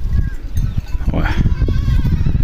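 Goats from a large herd bleating in the hills of a rural hillside farm, the calls mixed with rustling, hoof and movement noise, fairly close and continuous.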